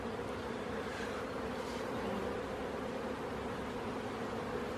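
Honeybees hum in a steady, even drone at close range while young attendant workers are placed into a queen cage, with no one speaking over it.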